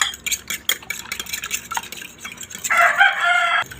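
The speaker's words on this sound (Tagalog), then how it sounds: "Haluin na natin." Boiled eggplant with seasonings is stirred and mashed in a dish, making rapid clattering scrapes and clinks of a utensil, close and busy, with a rooster crowing in the background toward the end.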